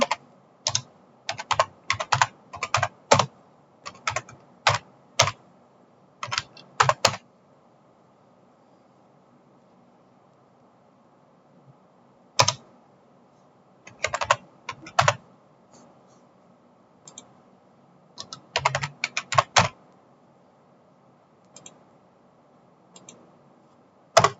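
Someone types on a computer keyboard, with quick bursts of close, crisp key clicks separated by quiet pauses.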